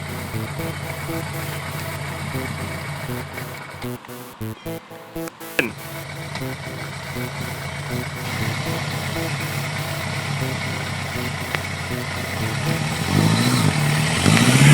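A Suzuki GSX 750F motorcycle idles and is revved in the rain, a steady engine drone with brief sharp blips in the middle and a rise in revs toward the end, while a voice talks nearby.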